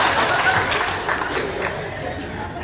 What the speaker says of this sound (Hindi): तालियां मारो तुम लोग।